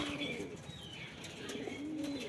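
Soft coos from a wild pigeon missing its right eye and left leg repeat in low hooting phrases on a village rooftop in winter, against a steady background hiss, with a few faint chirps above.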